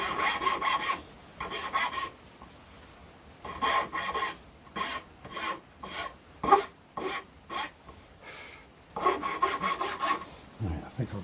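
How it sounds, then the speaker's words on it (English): Rough filing on wood during shaping: bursts of harsh rasping strokes, some in rapid back-and-forth runs and some as single scrapes, close by, with brief pauses between. "The file's good at just doing roughing on."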